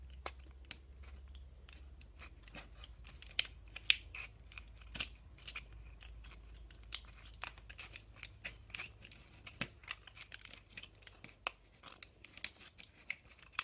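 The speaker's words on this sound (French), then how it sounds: "Donc on va découper de façon à ne laisser que le cercle." Pointed embroidery or kirigami scissors cutting around an aluminium Nespresso capsule, a quiet series of irregular crisp snips and crinkles, close and alone.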